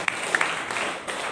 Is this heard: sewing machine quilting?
no